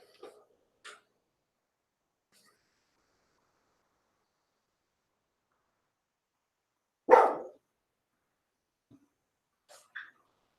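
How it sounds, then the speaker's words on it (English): A dog gives a few sparse, short barks in an otherwise quiet room, with one louder bark standing out among faint scattered yips. "What are you barking at?"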